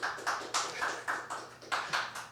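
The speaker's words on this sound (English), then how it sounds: "Those are real applause" Audience applause after a live song at an intimate music session, heard as a short burst of scattered, rhythmic claps from a small group, fairly close and moderately loud, with no talking.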